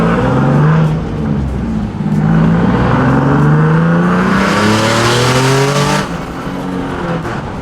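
A turbocharged Nissan 370Z Nismo with a VQ engine revs up repeatedly through rising gears, loud and close, with a hissing whoosh near the end as it shifts.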